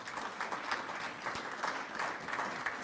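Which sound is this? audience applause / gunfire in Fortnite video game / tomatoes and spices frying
audience applause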